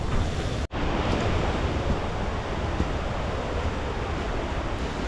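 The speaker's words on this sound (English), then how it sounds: "On top of the waterfall." The rushing of a waterfall at Whiteoak Canyon, heard from the top of the falls as a dense, continuous roar of water with wind buffeting, steady and loud throughout.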